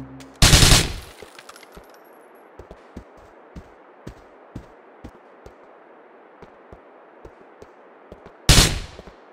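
Scattered single gunshots crack at irregular intervals in GTA IV, bracketed by two much louder bursts at the start and end, over a steady background hiss.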